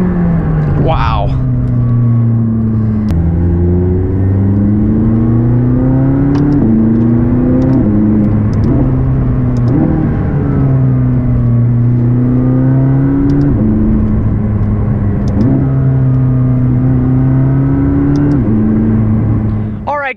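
A McLaren 675LT sports car accelerates hard, its engine roaring loudly through repeated rising gear pulls with brief dips at each shift, close and continuous for about twenty seconds.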